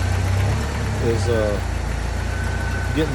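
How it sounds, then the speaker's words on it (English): A 1995 Jeep YJ 2.5L engine idles steadily and loudly up close, a constant low rumble. "Now I started the motor up, and I'm just gonna work the steering back and forth"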